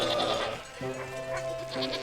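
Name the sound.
sheep bleating in the video game Wytchwood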